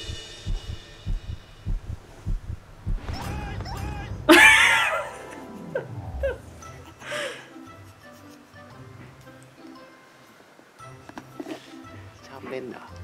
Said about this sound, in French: j'aime pas les battements de cœur dans les trucs.